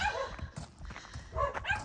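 A dog kept on a chain on farmland in the Algarve, Portugal, barks in short repeated bursts at middle distance, with a few whimpering yips between them and faint background noise.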